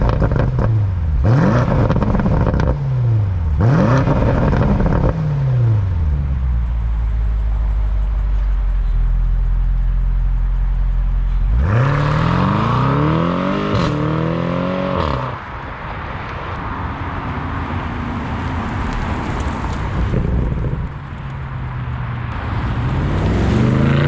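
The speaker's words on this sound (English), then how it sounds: "we're gonna get some exhaust shots now" A 2022 BMW M850i xDrive Gran Coupe exhaust revs hard in short repeated bursts, then holds a long loud drone and climbs again, recorded close to the tailpipe with no voices.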